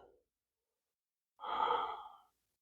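A single deep, audible breath drawn and released slowly during a seated chair yoga hip and low-back stretch, close and soft, with a faint trace of breath just before it and quiet afterward.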